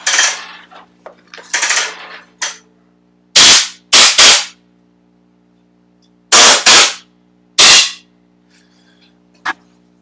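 Compressed air blows off a new filter during a motor replacement: some soft hissing, then five sharp, loud, close blasts in two pairs and a single, followed by a brief faint puff.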